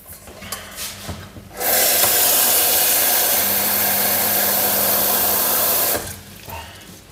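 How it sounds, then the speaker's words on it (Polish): Tap water runs steadily into a kettle in a home kitchen, a loud continuous rushing stream lasting about four seconds, with quieter handling noises just before and after. "Zaczynamy od wstawienia wody."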